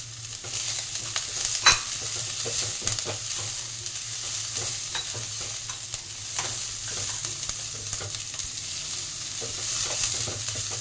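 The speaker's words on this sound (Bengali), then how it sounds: "লো ফ্লেমে এগুলো করতে হবে, ভেজে নেব" Chopped carrots, beans and capsicum stir-frying in a pan over a low flame for Chinese-style bread upma, a steady close sizzle broken by repeated spatula scrapes and stirring taps, with no talk.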